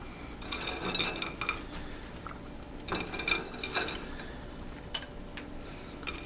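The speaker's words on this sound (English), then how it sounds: "Now what I'm going to do is put croutons on top." Croutons get set atop French onion soup in crocks: light clinks, taps and soft knocks of ceramic and utensils scattered over a quiet kitchen background, irregular and close.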